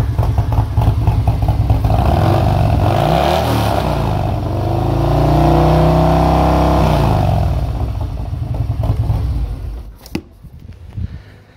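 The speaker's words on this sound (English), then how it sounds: "I'm going to do a little twist on the throttle here" A 2019 Harley-Davidson Road King Special with a 114 engine, Stage 2 and an S&S 475c cam, revving loudly and close up. The throttle swells and falls with a deep rumble, then settles to a lumpy idle at the end.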